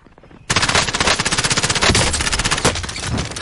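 Rapid automatic gunfire in the video game Warzone erupts suddenly and continues as a dense, loud stream of bursts, with sharp repeated shots running almost without pause to the end.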